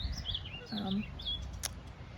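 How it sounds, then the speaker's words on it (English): Small birds chirp and tweet in short high calls nearby, over a soft outdoor background. "enjoying the weather, and listening to the birds."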